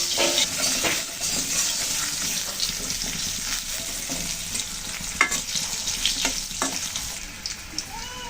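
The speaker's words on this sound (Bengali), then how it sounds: "সামান্য হলুদ দিয়ে দিলাম, আলুগুলো সুন্দর করে ভেজে নেবো" Potatoes fry with turmeric in a pan for a Bengali-style dish, giving a steady, close sizzle that runs throughout, broken by scattered light clicks and pops.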